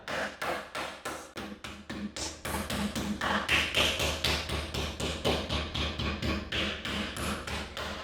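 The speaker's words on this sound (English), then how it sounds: "the reason we're beating our meat here is to make it flat so it cooks more evenly in the oven" Raw chicken meat for a buffalo chicken quesadilla is pounded flat on a board, a close series of about twenty firm, evenly paced thuds, roughly three per second, with no voices.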